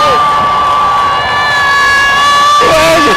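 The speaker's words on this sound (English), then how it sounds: "If you can hear that screaming" Loud, sustained high-pitched screaming from a spectator at an ice hockey game, a steady shrill tone running almost unbroken over a roaring crowd, briefly dipping and changing pitch near the end.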